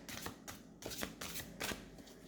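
Tarot deck being shuffled by hand in close, rapid riffling bursts, four quick rustling strokes in a row, soft and near with no speech.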